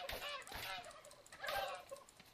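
Turkeys gobble in the video game How to Survive 2, two loud bursts of rapid warbling calls close together with a brief gap between them.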